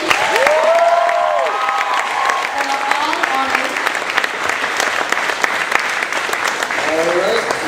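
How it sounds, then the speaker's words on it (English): Applause rolls through a school pageant audience, with dense clapping that carries on steadily while a few whoops and voices break through near the start and end. "let's give a big round of applause to the Amanda McPherson Foundation."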